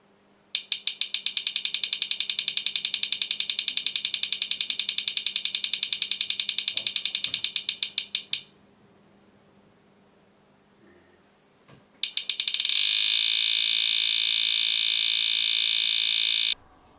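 A GEOVITAL EM field probe sounds its alarm at a high field reading: rapid, evenly spaced electronic beeps in a loud burst of about eight seconds, a short quiet gap, then a second steady beeping run, with no voices.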